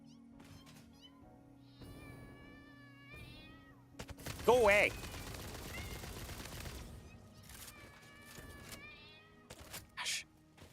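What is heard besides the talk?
hostile creatures meowing in video game Satisfactory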